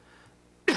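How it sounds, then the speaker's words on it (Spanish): A single short, sharp cough bursts out at the very end after near silence, from a speaker in a formal court hearing. "Discúlpeme por la tos que me tiene."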